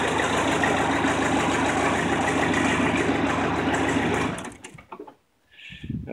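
Jacobsen HR5111 4x4 mower with a 51-horsepower engine running at a steady, loud drone that cuts off abruptly near the end, followed by faint rustling.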